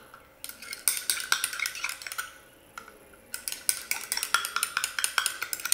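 A utensil stirs a homemade facial cleansing gel mixture containing broken soap, making rapid, sharp clicking and scraping taps against the container in two busy bursts with a brief pause between them.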